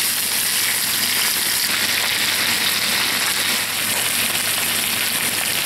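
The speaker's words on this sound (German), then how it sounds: "Die Hähnchenschenkel brate ich jetzt von beiden Seiten an." Chicken thighs sear in a hot frying pan for a Moroccan-style dish, making a loud, steady, dense sizzle and crackle close by, with no voices.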